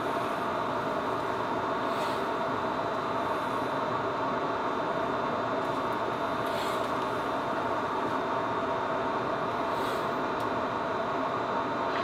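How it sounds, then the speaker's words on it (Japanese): A group charter train, the Oku no Hosomichi Yukemuri Line Rikuu East-West service to Sendai, pulls out of Shinjo station with a steady, even rolling rumble and hiss that carries on without a break. "団体専用列車まもなく発車いたします。"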